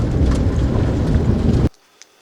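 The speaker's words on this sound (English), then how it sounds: "It just kind of started raining." Rain hisses steadily while driving the Dempster Highway, a loud broadband wash that continues for under two seconds and then cuts off abruptly into near silence.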